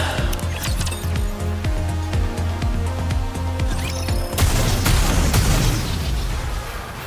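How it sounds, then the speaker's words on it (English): Rapid gunfire barrage in the video game Nikke: Goddess of Victory, a dense run of sharp repeated shots followed by a louder burst of blasts and crackling impacts, close and continuous. "Grave fires off a barrage of shots."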